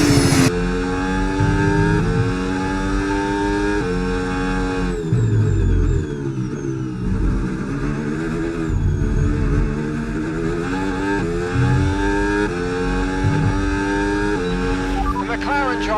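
Formula 1 race cars in an F1 video game lap of Silverstone, engines revving loud and continuous with rising and falling gear-change sweeps throughout, under running commentary.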